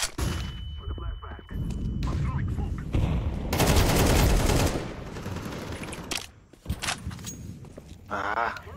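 Gunfire from the video game Counter-Strike 2 bursts out in short clusters of shots, with one dense, loud volley in the middle and quieter shots and game sounds around it.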